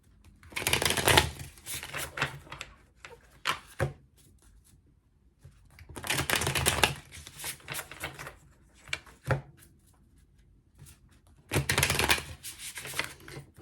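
A deck of Sacred Creators oracle cards is shuffled in three separate bursts of riffling and shuffling, close and fairly quiet, with softer card handling and small clicks in between.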